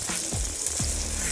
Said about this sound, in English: What I decided to do was grill another onion